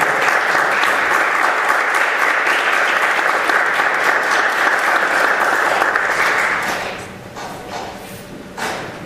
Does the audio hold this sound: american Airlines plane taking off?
no